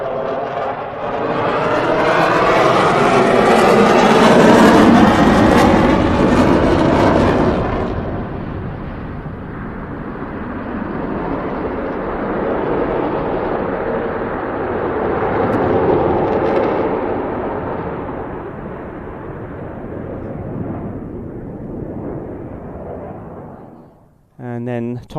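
A CF-18 Hornet jet flies a square loop display with hard high-alpha turns. A loud, harsh engine roar dominates the first stretch, then eases into a steadier distant rumble that swells again before fading.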